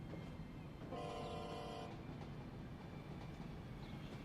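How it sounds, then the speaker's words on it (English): Spirit of the Tropics tilt train in the video game Transport Fever 2, a single sustained horn toot about a second long over a low continuous rumble of rail traffic, moderately distant. "there's a Spirit of the Tropics train, which is my tilt train"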